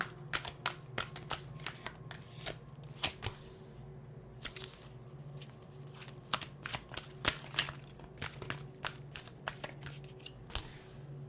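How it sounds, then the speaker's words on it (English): Tarot cards are shuffled by hand, producing a long run of crisp, sharp riffling snaps in irregular clusters, close and fairly quiet, with no one talking over them. "1 more shuffle."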